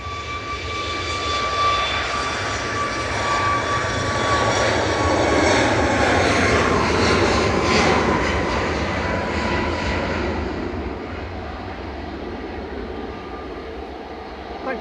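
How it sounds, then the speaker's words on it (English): A Ryanair jet departs Manchester Airport as a steady, loud roar that swells toward the middle and slowly fades to a distant rumble, with no voices. "Ryanair departing now, heading off to Ibiza with flight 1263."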